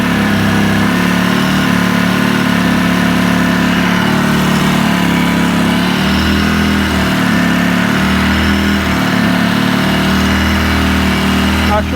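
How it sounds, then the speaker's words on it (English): Polaris RZR 800S side-by-side engine idling high and steady throughout, a loud continuous drone with a low throbbing pulse and faint swelling in the lower tone, no voices over it. "Not sure why it's so high of an idle right now."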